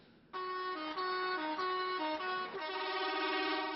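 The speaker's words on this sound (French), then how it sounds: "Un concert de klaxons pour exprimer le soulagement." Truck drivers stranded for two days on a snowy national road blast their horns together, a loud, sustained chorus of overlapping tones that shift pitch now and then and hold for several seconds.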